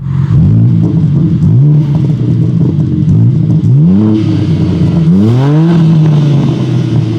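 A BMW M3 CS with 550 hp revs repeatedly near Le Mans circuit, loud close engine blips rising and falling in pitch three or four times over a steady idle rumble.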